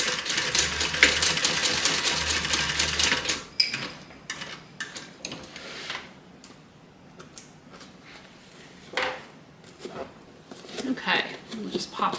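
A sewing machine runs in a quick rattling burst along a bag's side seam, then stops. Scattered clicks and fabric handling follow while a person talks.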